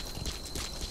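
Horse hooves clip-clop in Metal Gear Solid V: The Phantom Pain, a brief run of close, steady hoofbeats over low rumbling ground noise.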